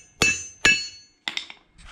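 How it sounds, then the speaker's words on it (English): Small hammer knocking wheel studs out of a brake rotor from an Australian Off Road Matrix trailer, with a nut protecting the thread: two sharp metallic bangs close together, followed by lighter clinks of loose parts. "Probably two or three bangs, just small hammer."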